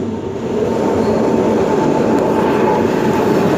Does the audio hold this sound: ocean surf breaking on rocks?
no